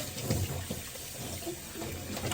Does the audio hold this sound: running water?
yes